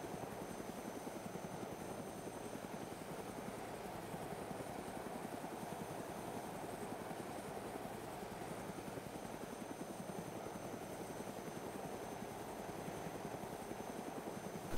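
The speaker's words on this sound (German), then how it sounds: "dann kannst du dich an den Heli orientieren, so ein bisschen an die Geräusche." Helicopter flying in the video game DayZ Origins, a steady rotor thump and engine drone holding at an even level from start to finish, with no talk over it.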